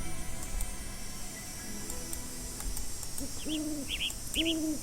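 Bird calls in the Nancy Drew: Ghost Dogs of Moon Lake video game, two or three clear hooting calls with chirpy overtones in the second half over a steady hissy ambient background.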